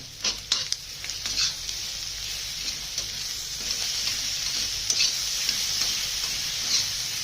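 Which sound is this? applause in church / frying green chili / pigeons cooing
frying green chili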